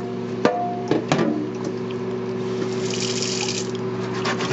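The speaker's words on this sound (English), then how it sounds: "you don't really need soap or anything, it's just biscuits. Just gotta scrub off whatever's there" Water runs steadily from a tap as a biscuit pan is rinsed and scrubbed in a sink, with a few clunks at the start and a constant rushing stream throughout.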